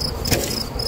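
Honeybees drone around an opened hive super during an April colony inspection at a queen-rearing apiary, a steady thin insect whine with faint low rumbling underneath, brief and fairly quiet.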